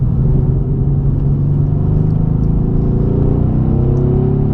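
A Mercedes C63 engine revs hard under acceleration from inside the car, a loud, continuous low growl with a gradually rising pitch and steady rumble throughout.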